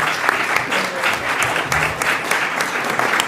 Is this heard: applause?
yes